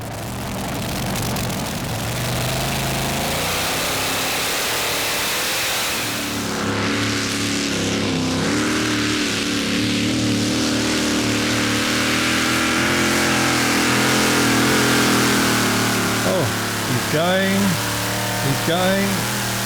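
A pulling tractor's engine roars steadily and loudly through a full pull at a 2008 Danish Championship tractor pulling round in Frederikssund, a sustained heavy drone with a few brief rising whines near the end.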